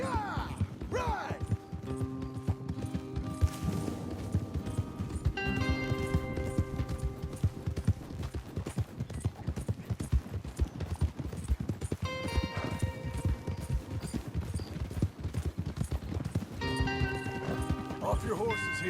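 Several horses gallop in Red Dead Redemption 2, a fast rolling clip-clop of hooves running close and steady throughout, with snorts and whinnies, under music and bursts of character dialogue.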